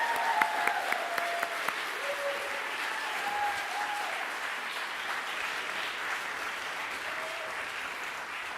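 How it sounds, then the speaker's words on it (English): An audience at a Flower Communion service gives sustained applause, a dense, steady wash of clapping that holds for the whole stretch without pause. "Let's give her another round of applause."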